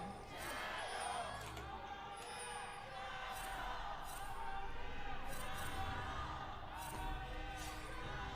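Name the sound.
esports arena crowd cheering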